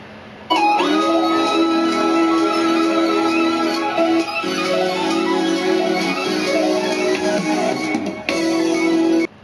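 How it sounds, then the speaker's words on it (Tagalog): Music plays loud and steady through an Awei Y500 wireless speaker, with sustained tones and a brief dip partway before it cuts off near the end. "narinig nyo naman kung ano yung tunog ng Awei Y500 wireless speaker."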